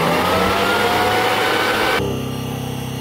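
An electric motor driven by a Delta VFD at 300 Hz gives a loud, steady high whine and whir that drops slightly near the end, with no voices.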